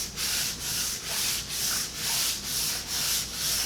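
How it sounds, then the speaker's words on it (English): Rhythmic hand sanding of leather filler with 400 grit sandpaper, about seven even back-and-forth strokes, close, soft and alone. "This is 400 grit sandpaper."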